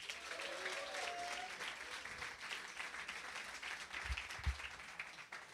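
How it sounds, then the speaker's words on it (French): Theatre audience applause during a comedy competition semi-final, a steady faint wash of clapping from a crowd heard at a distance, with a couple of low thumps near the end. "on applaudit la merveilleuse technicienne que nous avons rencontrée aujourd'hui des Enfants du Paradis, Aurélie."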